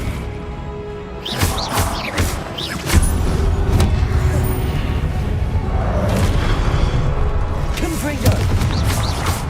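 Blasting spell explosions from the fantasy action game Hogwarts Legacy, a series of loud booming thumps and crashing bursts over dense combat noise, with a voice calling out spell names.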